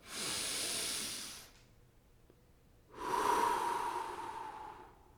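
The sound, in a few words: deep breath in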